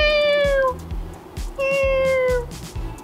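Several cats meow in a cat cafe, two long drawn-out meows close by, separated by a short pause, over a busy background of clattering and low room noise.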